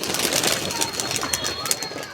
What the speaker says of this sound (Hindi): तो हमारे कबूतर माशाल्लाह अब थोड़े से एक्टिव हैं